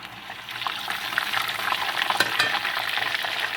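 Tortilla shells frying in hot grease give a close, continuous crackling sizzle that rises slightly in intensity over a few seconds, with small pops on top.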